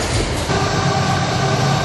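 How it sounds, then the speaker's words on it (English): An iron ore train hauled by General Electric locomotives rumbles past in a steady, loud, continuous roar of engines and rolling ore cars, close by and without any talk. "These locomotives are used in various configurations, depending on the number of ore cars in the train."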